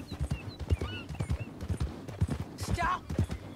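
Horse hooves in Red Dead Redemption 2 beat out a steady, close clip-clop rhythm, with brief voices heard in the mix.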